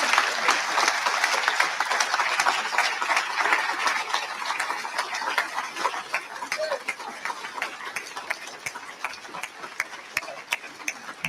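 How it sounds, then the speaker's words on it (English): Sustained audience applause from a crowd, dense crackling clapping that stays loud and steady throughout, with no one speaking over it. "Let's listen to the applause to end this."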